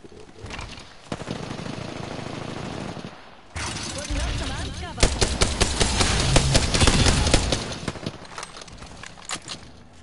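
Apex Legends gunfire from a Rampart match, rapid bursts of automatic shots cracking over several seconds, loudest in the middle, with intermittent game noise and brief talk in the background.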